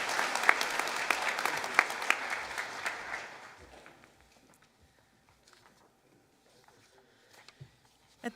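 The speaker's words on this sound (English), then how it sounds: "let's give Chelsea a big round of applause" An audience at a high school senior honors awards night applauds a scholarship recipient, a dense round of clapping for about three seconds that thins out to scattered faint claps and quiet.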